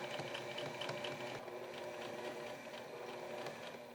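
A sewing machine runs steadily while stitching down a hem, producing a fast, even mechanical whir and ticking that stays constant and fairly close throughout.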